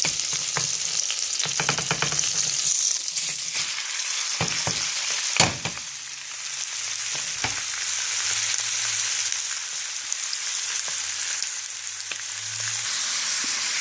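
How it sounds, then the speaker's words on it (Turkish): Meat for tas kebabı sautés in a spoonful of oil in a hot pan, a constant bright sizzle with intermittent knocks and scrapes of a stirring utensil, sharpest near the middle. "Şimdi etlerimizi ekliyoruz. Kavuracağız."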